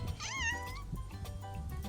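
A cat meows with a rising, wavering call near a Mack R686ST truck, standing out clearly over a steady low background rumble before trailing off.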